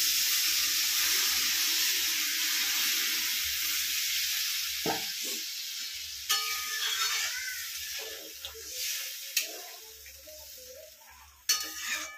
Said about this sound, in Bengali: এর মধ্যে এবার আমি একটু জল দিয়ে দেবো।